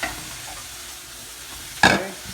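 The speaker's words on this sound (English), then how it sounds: "And as it browns, I will drop the curry leaves." Onions frying in butter in a rice cooker with curry leaves dropped in, a steady low hiss of frying and then a sudden louder crackling sizzle near the end, close up and alone.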